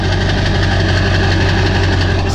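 Straight-piped 7.3 PowerStroke diesel with the muffler deleted idles loud and close, a steady deep rumble with a rough, knocking diesel clatter throughout.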